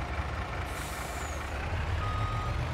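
Truck in Farming Simulator 22 with steady reversing beeps over a low diesel engine rumble and a hiss of air brakes, close and continuous.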